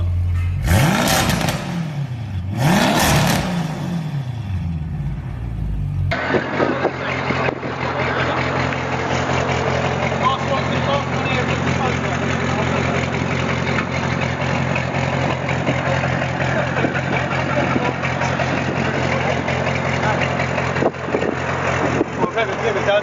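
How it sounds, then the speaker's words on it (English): Audi RS6 tuned to 760 bhp, fitted with Perron downpipes and an aftermarket exhaust, blips loudly twice with sharp revs, then settles into a steady, rumbling idle close by. "he's got an Irene exhaust, which sounds incredible"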